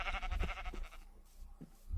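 Sheep bleating in Minecraft, a couple of short wavering bleats near the start, then quieter blocky game sounds, with no talk.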